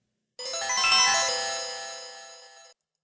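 Konami logo jingle from a Super Nintendo game played on a PocketGo S30 handheld, sounding distorted: a smeared, bell-like chord swelling then slowly fading over about two seconds, harsh and muddy, with no talking.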